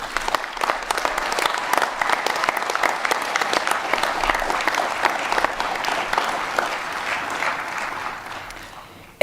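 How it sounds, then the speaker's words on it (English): Commencement audience at a college graduation ceremony applauding for students' families, a dense sustained wash of many hands clapping that carries steadily throughout and tapers slightly near the end. "So students, please join me in a round of applause for your family"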